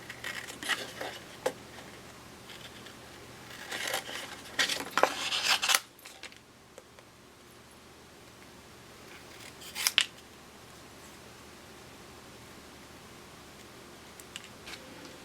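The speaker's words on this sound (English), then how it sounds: "We're going to take our scissors to cut out the nose" Scissors snip through paper close by, a flurry of crisp cuts at first, then quieter pauses broken by a lone sharp snip.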